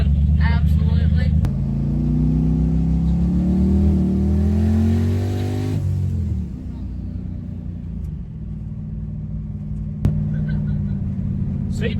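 A twin-turbo big-block Ford Fairmont accelerates hard, its loud engine note rising steadily through the gears for several seconds before easing back to a lower rumble, with a voice talking over it.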